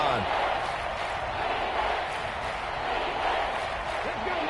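Steady stadium crowd roar in a football video game during a big third-down moment, a continuous dense wash of voices throughout with no distinct cheer peaks.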